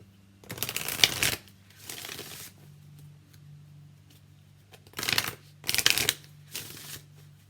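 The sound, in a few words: shuffling the Angel Answers oracle card deck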